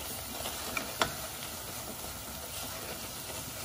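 Onions caramelizing in a pot for couscous give off a soft, steady sizzle and hiss at low volume. A couple of faint clicks from stirring are mixed in.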